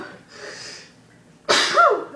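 A person does a sneezing-with-eyes-open challenge: a quiet breathy inhale builds up, then one sharp, loud sneeze bursts out close to the microphone.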